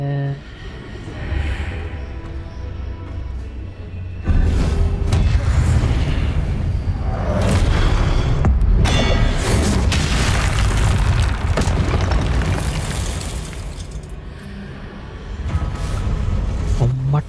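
Confringo fire spell explosions in Hogwarts Legacy, a run of heavy booming blasts and bursts with crackling debris, loud and close, with a player speaking intermittently over them.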